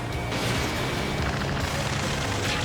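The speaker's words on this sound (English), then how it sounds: "Taking fire! We're pinned down! Shoot back!" Dense, continuous gunfire and booming explosions fill a combat scene in the video game Ace Combat 7, a loud and unbroken barrage with heavy low rumble.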